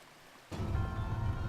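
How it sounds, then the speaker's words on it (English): Water drains in the video game Breath of the Wild after a button press: a sudden broad rushing wash starts abruptly and keeps flowing steadily, fairly loud, with no speech. "So this button turns off the water. Okay, it lowers the water on one side."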